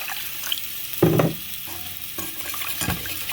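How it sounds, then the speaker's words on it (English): Gravy being whisked in a pan on the stove as it thickens, a brief scraping stir with a louder burst near the start and light sizzling beneath, with no talking. "And whisk."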